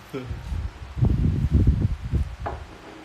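Strong wind gusts outdoors, buffeting and rumbling in uneven bursts with a rustling hiss, and a voice briefly heard near the start.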